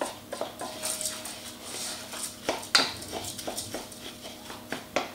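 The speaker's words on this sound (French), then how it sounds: "on va le faire rouler pour bien" Rice being stirred in oil with onions in a pot for pilaf, producing a soft rustling scrape with light metallic clinks of the utensil against the pot, close and moderate in level.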